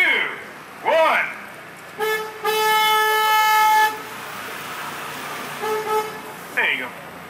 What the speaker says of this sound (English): Speaking of quiet, I'm honking the horn.